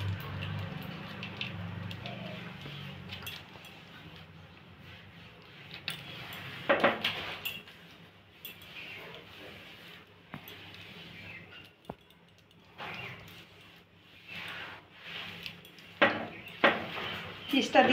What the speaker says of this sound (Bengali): চিজটা দিয়ে নেড়ে নিয়ে আমি ঢাকা দিয়ে রেখে দেব